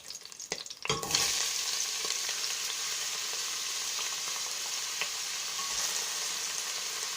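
Onions and garlic sautéing in a pot for vegetable soup, a steady close sizzle after a clattering stir and drop at the start, with occasional faint utensil clicks.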